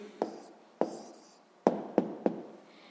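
A pen writes an answer on paper during a sixth-grade maths exercise, giving five short, close scratchy strokes with brief pauses between them and no talking.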